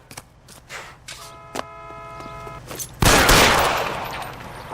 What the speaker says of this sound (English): Sabo, stop or I will shoot!